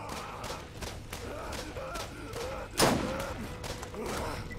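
A single sharp sniper rifle crack rings out in Borderlands, standing out loudly against a busy backdrop of distant gunfire and scattered combat noise, with faint voices underneath.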